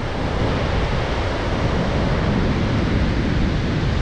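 Sea waves at Mandarmani beach: a loud, steady, broadband roar of surf with no distinct breaks, mixed with wind buffeting the microphone.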